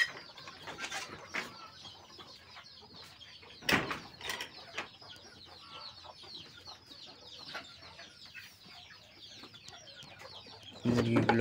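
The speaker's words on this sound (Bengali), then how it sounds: "এখন মুরগিগুলোকে ছাড়বো" Farmyard chickens cluck and squawk in an irregular chorus as they are let out of their coop on a rainy village morning, with a few louder bursts standing out and a faint voice underneath.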